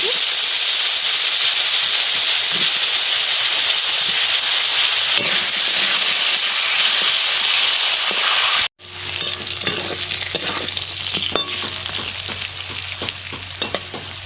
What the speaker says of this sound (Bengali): এটা আলু ভাজা করতেছি